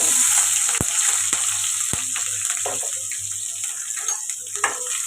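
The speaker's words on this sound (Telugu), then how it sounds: "ఇవి ఫ్రై అవ్వాలి ఉల్లిపాయలు ఇలా ఫ్రై అవుతుంది కదండి" Onions and green chillies sizzling steadily in a pan, a constant bright frying hiss with a few sharp clicks of stirring, no voices.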